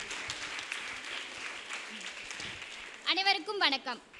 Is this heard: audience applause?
yes